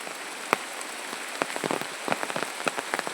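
Heavy monsoon rain pouring down in a village, a dense steady hiss with scattered sharper drips and splats landing nearby.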